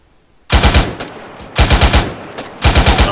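Machine gun fire in a military video game comes as three close, loud bursts of rapid shots, each about half a second long, separated by short pauses.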